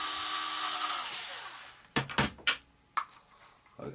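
A power tool whirs loudly for about a second and a half while fastening parts on a Cap 232 RC airplane build, then winds down, followed by several sharp clicks and knocks of handling.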